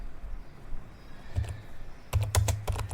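Keys clack on a laptop keyboard as a Windows command is typed, with a short burst of taps followed by a denser run of quick, close strokes against faint room hiss.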